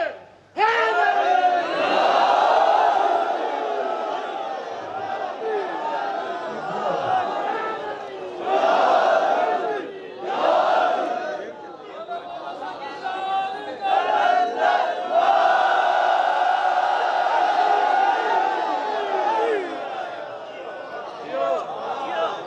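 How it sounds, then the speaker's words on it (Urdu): A large congregation of believers at a Shia religious gathering shouts a devotional slogan in unison, loud massed voices swelling and falling in repeated waves, with a lone speaker's voice between the surges. "نعرے"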